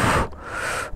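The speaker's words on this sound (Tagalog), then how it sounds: "Hingal na ako." A person panting heavily after pushing a motorcycle, a single short, breathy gasp-like exhale followed by a longer rasping breath, close and alone.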